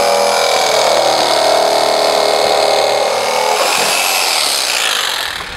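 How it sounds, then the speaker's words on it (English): A power drill bores a pilot hole along a cut line in an oyster nursery silo, ready for a jigsaw. It makes a loud, steady grinding whir that runs without a break and eases off at the very end, with no talk. "I'm going to drill a hole in the line to start a pilot hole for the jigsaw."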